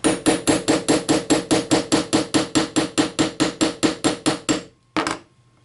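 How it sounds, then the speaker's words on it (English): A hammer taps a 1/16 inch punch through a trigger part of a Kel-Tec RDB rifle. About twenty sharp, evenly spaced metallic strikes ring out close and loud, then one final tap follows after a short pause. "take your 1/16 inch punch and go ahead and tap it all the way through"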